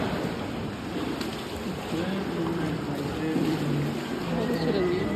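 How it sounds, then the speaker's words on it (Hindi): A boat moves along water through a long, dark rock cave tunnel near Hanoi, giving a steady engine drone and water wash with a continuous background rumble, while a voice talks over it. "चट्टान इसके अंदर से हमारी बोट जा रही है"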